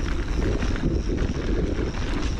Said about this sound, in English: you could tell it was getting cold and windy